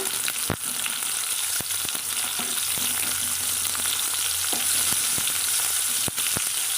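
Chopped tomatoes sautéing in a pan for coconut kara chutney, a loud continuous frying sizzle with occasional sharp clicks of a spoon against the pan.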